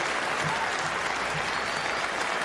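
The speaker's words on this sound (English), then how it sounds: "it's not just fans of Pakistan that are standing and applauding" A cricket stadium crowd standing and applauding during a West Indies versus World XI T20 match, with broad, steady clapping at a moderate distance and no pauses.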